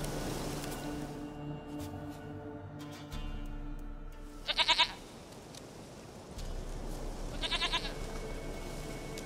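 A goat in The Witcher 3 gives two short, quavering bleats a few seconds apart, clear and close over a low game background hum.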